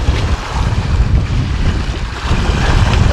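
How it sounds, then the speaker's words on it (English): Strong wind roars over the open sea while lure fishing for wrasse from a boat, with a loud, steady, broadband rush of gusts buffeting the microphone and waves washing beneath, with no talking. "The wind seems to be freshening all the time now"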